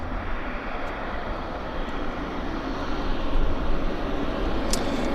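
A steady, loud jet roar from an Air Canada Jazz CRJ on approach at Vancouver airport, swelling slightly as the aircraft draws nearer, with no talk over it.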